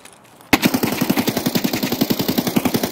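An AK rifle fires a sustained full-auto spray in a video game, about twenty rapid evenly spaced loud shots starting abruptly after a short quiet lead-in.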